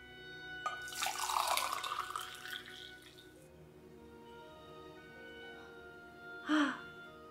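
Hot water poured into a container, heard as a rushing, splashing pour for a few seconds that fades into quieter trickling, followed by a short sharp knock near the end.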